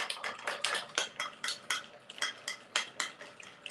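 Bar spoon stirring a caipiroska over a big block of ice, giving a quick, regular run of bright clinks and scrapes against the glass, close up and fairly loud with no voices.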